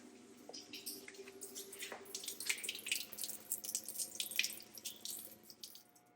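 Water running and splashing as it drains from an opened valve beneath a camper van during winterizing, a steady trickling flow with scattered drips and splashes, fairly quiet and heard alone.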